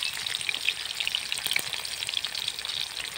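Chopped onions fry in hot oil for a fish curry with taro, a steady close sizzle with faint crackles running throughout, no voices.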